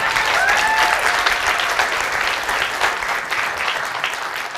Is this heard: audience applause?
yes